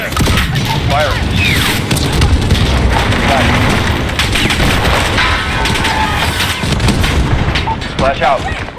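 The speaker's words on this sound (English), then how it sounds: "Flash out. Missile out. Impact." Missile strike detonating on a building during an embassy assault in the game Under Siege, a loud sustained rumble of blasts and gunfire with radio voices talking over the din.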